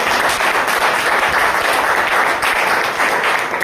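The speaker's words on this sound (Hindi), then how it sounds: "जोरदार तालियां होनी चाहिए" An audience at a company anniversary event in India breaks into loud, sustained applause. Dense, even clapping fills the whole stretch without pause.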